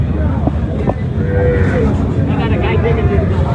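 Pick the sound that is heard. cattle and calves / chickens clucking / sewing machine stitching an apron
cattle and calves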